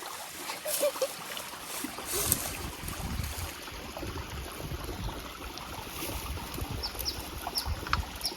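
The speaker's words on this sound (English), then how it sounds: "We got all the nice flow of the creek." Penitencia Creek in Alum Rock Park flows as a steady broadband wash of running water, close and continuous, with a few faint knocks and rustles on top and no talking.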